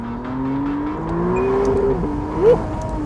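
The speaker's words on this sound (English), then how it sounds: "God, that engine now sounds so good." McLaren Artura Spider engine revving up and falling back in one close, loud sweep, with a sharp rise near the end, no talk over it.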